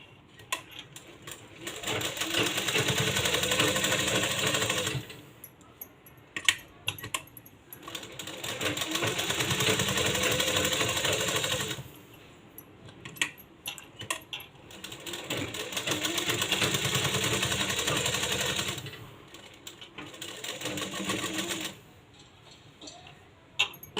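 Sewing machine stitching around all four sides of a small baby bonnet, running in three long steady bursts of rapid mechanical ticking separated by brief pauses, close and fairly loud with no talking.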